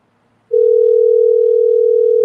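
Steady telephone dial tone on a call, starting abruptly after half a second of quiet and holding loud and unbroken to the end, with no talk over it.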